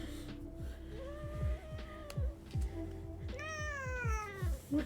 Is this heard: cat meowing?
yes